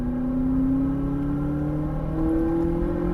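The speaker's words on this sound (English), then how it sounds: "Hear the turbos, brake hard." Exotic car on a racetrack with its turbos spooling, a steady rising engine whine and low rumble holding loud and close throughout, alone without talk.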